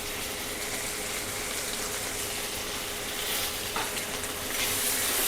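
Chopped tomatoes sizzle in hot oil with hing in a pan for tur dal, a dense, steady frying hiss with a faint scrape near the end, close and continuous with no talk.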